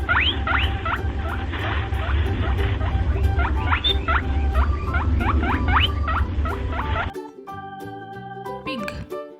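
Farm rabbit giving rapid, high squeaking chirps in a busy run for about seven seconds over a low background rumble, then cutting to a short tonal musical passage.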